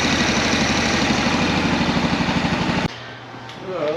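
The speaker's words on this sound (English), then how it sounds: "Alright guys, you can see the fan is running." Coolant fan running on a Kawasaki Prairie 400 ATV engine during a rebuild, a loud steady whir with rhythmic pulsing that cuts off abruptly after about three seconds, leaving a quieter hum.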